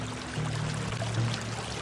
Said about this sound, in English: These jars are filled with water and then loaded onto the backs of a team of 4 donkeys.